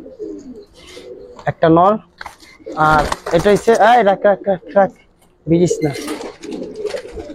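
Giribaz pigeons coo softly in a loft, a low rolling murmur that sits mostly under someone talking nearby.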